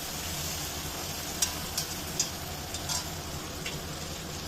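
Chopped tomatoes added to a pan with jackfruit cooking for a singhi fish curry, a steady low sizzle with a few sharp spoon clicks and scrapes as the contents are stirred.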